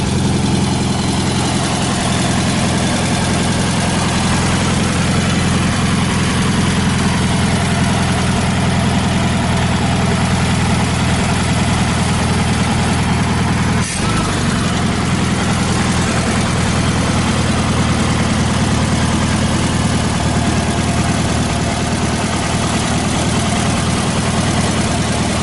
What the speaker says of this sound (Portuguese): o motor já está quente e agora eu vou regular a marcha lenta porque ele está um pouco acelerado